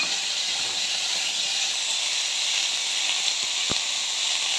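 Chopped vegetables and tomato fry in a pan for a vegetarian dish, giving a steady, even sizzle and hiss that runs unbroken throughout with no voices.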